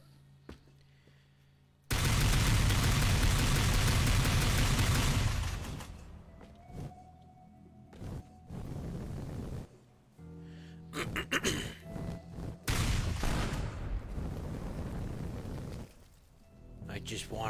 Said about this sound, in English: I just wanted the big explosion. I love explosions.